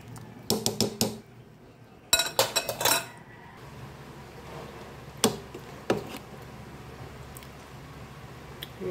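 Mung bean stew with pork cubes, ginger, onion and tomato being stirred in a pot, with clusters of sharp metallic scrapes and clinks in bursts, then sparser knocks over a quiet background hum.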